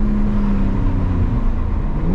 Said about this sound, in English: Sounds like it's stock exhaust, and then above 4 grand, it's like you modified the exhaust as you move it.